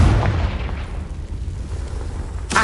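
A Confringo blasting spell going off in a video game, one deep, booming explosion that rumbles and fades out over about two seconds, with a sharp new burst right at the end.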